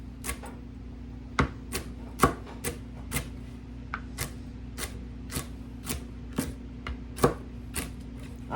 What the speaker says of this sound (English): Now I'm just going to cut them up.